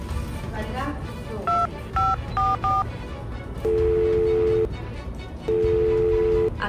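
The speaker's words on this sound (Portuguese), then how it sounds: "tá chamando, mas ninguém atende" A phone being dialed with a quick series of keypad tones, then two long ringback tones as the call rings out, over a noisy room background.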